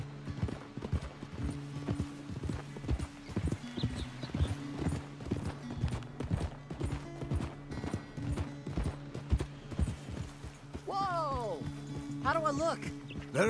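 Horse hooves from Red Dead Redemption 2, a continuous even clip-clop of a ridden horse over a low steady hum, with a brief whinny-like call near the end.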